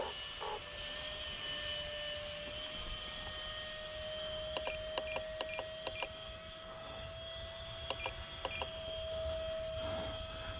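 A 3D-printed Saab Viggen model jet flies with a steady high electric whine from its motor, distant and faint, with brief beeping tones sounding during the middle stretch.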